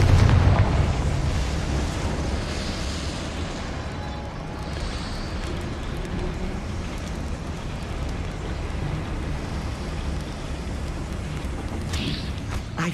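A Confringo spell explodes in Hogwarts Legacy: a loud blast at the start gives way to a sustained roaring, crackling rumble that slowly settles, with a brief bright burst near the end.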